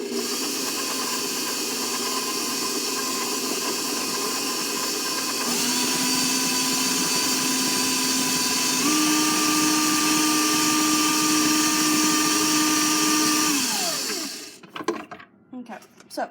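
An electric mixer creams half a cup of butter with a cup of sugar in a bowl, a loud steady motor whine that shifts pitch partway through, then winds down and stops near the end.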